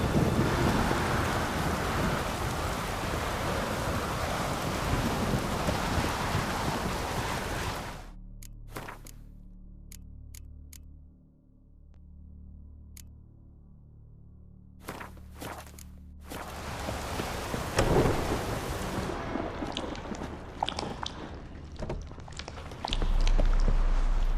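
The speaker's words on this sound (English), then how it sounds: "Storm, damn it." A thunderstorm with heavy rain sweeps over the open world of The Witcher 3: Wild Hunt. A dense loud roar of downpour and wind gives way to a quieter stretch with scattered cracks and rumbles, then the heavy rain surges back.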